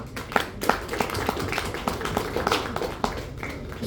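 Applause breaks out for a film producer at a Kannada movie event, a moderate crowd clapping steadily with scattered sharper claps, somewhat distant and continuous.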